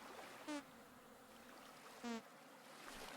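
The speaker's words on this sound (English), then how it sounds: "those are the bees I pissed off" Angry bees in the video game Vintage Story give two short buzzing bursts about a second and a half apart, standing out over a faint, airy outdoor ambience.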